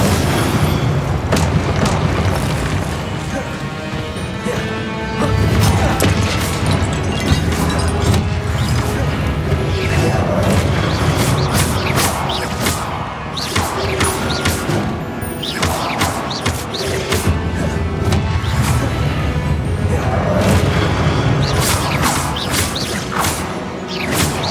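Spell blasts and explosive booms during Hogwarts Legacy combat, a dense, loud, continuous barrage of crashes, whooshes and impacts with no pause.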